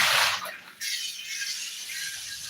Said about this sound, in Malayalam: ഇതുപോലെ വെള്ളത്തിൽ ഒന്ന് കഴുകി കൊടുക്കണം കേട്ടോ